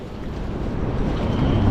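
Strong wind blows across open sea while fishing from a boat, a steady loud rushing roar buffeting the microphone with low rumble and no voices.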